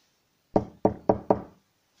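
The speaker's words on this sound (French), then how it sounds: "des petits toc-toc derrière ma fenêtre" Four small knocks tapping on a bedroom window at night, close and fairly quiet, in a quick uneven rhythm with clean silence before and after.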